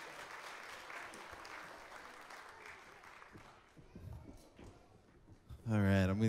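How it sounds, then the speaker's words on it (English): Audience applause follows a children's Christmas production at a church, soft scattered clapping under talk that swells near the end as a voice speaks loudly up close. "We should clap."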